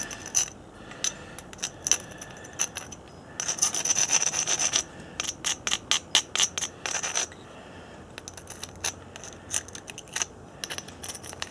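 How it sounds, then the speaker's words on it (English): The edge of a knapped stone point, a Snyders point, is ground with short, repeated scraping and rasping strokes in uneven bursts, some fast and rhythmic, heard close up with no talk. "I'm going to just grind a little bit here."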